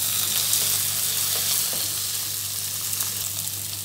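Medium-sized chopped tomatoes sizzle steadily in a hot pan, with a constant close frying hiss and a few soft scrapes as they are stirred.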